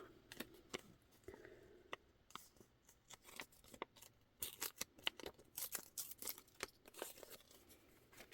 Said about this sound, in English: I have several of those pamphlets, so it's fine if I rip this one apart.